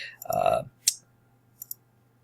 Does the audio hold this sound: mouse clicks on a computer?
yes